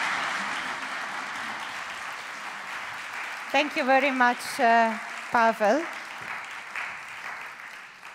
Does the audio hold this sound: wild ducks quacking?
no